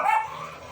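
A dog in the street gives a single short, sharp bark that is fairly close and fades quickly.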